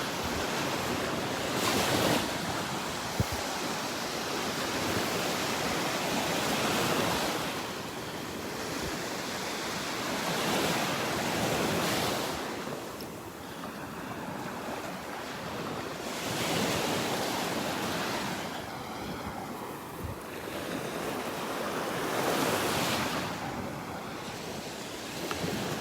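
Ocean waves wash onto Vanderbilt Beach on a calm morning, a soft, continuous surf with gentle swells that rise and fall every few seconds, heard alone without voices.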